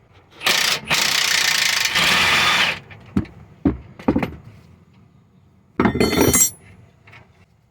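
A wrench works a 19mm nut on a Toyota Sienna control arm with ratcheting mechanical clicks and rasps in a few bursts, separated by quieter knocks and clinks, with no talking.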